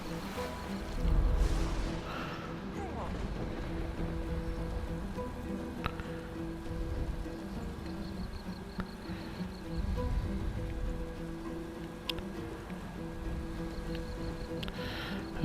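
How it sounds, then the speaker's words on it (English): A rain spell cast in the video game Divinity: Original Sin 2 produces a steady, soft hiss of falling rain that continues throughout with a few faint clicks and taps. "my team's on fire, so I'm going to cast rain to put it out"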